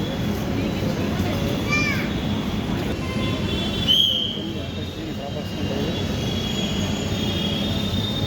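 A metro train pulls into a station on the AIG Hospital to Secunderabad line, its low rumble steady throughout, with brief high wheel squeals near the middle and faint voices in the background.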